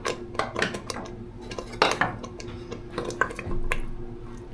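Sugar-free Mysore pak mixture boils over a medium flame while a utensil stirs and scrapes the pan, giving irregular clinks and bubbling splutters up close.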